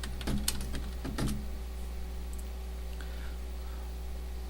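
Short quick keyboard typing: a few clustered key clicks in the first second and a half, then only a steady low electrical hum, no voices.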